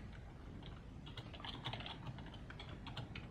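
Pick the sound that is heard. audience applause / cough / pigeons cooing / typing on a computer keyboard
typing on a computer keyboard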